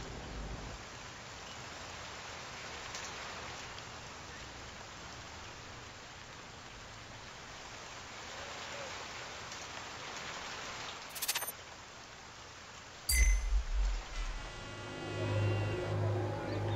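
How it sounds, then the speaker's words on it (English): Steady rain pours down on the track during a Dirt 3 rally race, a constant hiss of falling drops, joined near the end by a few short bangs and a rising car engine. "The rain's coming down and the track's getting wet"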